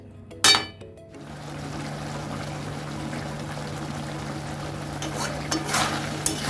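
A Bengali drumstick and shrimp curry with added water simmers in a pan over raised heat. A brief pan clatter is followed by a faint, steady bubbling hiss, close but quiet.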